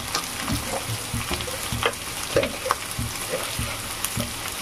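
Chopped onion, a tomato, salt, bay leaves and cardamom fry in oil for a chicken skin dish, giving a steady close sizzle with regular scraping taps from stirring.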